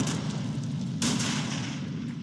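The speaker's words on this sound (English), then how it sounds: "Machine guns are amazing in this game." Machine gun fire in the game Tempest Citadel, a dense, rumbling burst of rapid rounds over a continuous heavy drone, with one sharper crack standing out midway, no talking.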